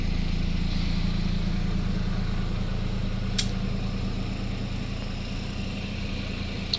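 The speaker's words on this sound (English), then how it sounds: "Vehicle is running, as you can hear it" A 2019 MINI Cooper S Convertible idles steadily nearby, a low, even engine hum with a constant rumble and no revving, with a faint click partway through.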